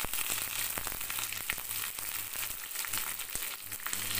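Curry leaves and dried red chillies fry in hot oil with a dense, crackling sizzle. Sharp pops and spits sound close by throughout, and no voices are heard.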